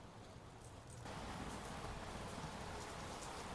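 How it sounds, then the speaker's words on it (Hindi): Heavy rain falls outside a room, a dense, steady hiss that suddenly grows louder about a second in and then pours on evenly, with no voices over it. "गाइज बारिश आ चुकी है बहुत ही ज़्यादा तेज़"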